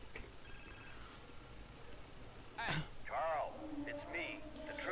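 A mobile phone rings inside the video game GTA San Andreas, its ring tones sounding faint under game ambience and brief bursts of other sound effects.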